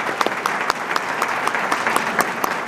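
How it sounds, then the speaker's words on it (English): A crowd applauds steadily, dense clapping filling the whole stretch with scattered sharper claps standing out. "We want to recognize you with a round of applause."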